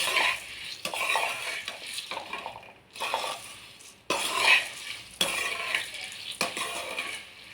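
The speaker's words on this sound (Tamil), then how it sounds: "நல்லா பொறி சூடாகிற வரைக்கும் நல்லா கிளறணும்" Puffed rice (pori) being stirred and roasted in a hot pan for spicy kara pori, giving a steady dry rustling scrape with repeated utensil knocks against the metal, close and continuous without speech.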